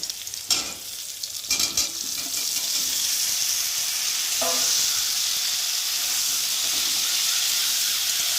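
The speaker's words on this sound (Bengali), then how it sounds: "আলুগুলোকে ভালো করে ভেজে নেব" Food sizzles steadily in a hot pan after a couple of clattering stirs, the frying hiss constant and bright, with one brief scrape midway.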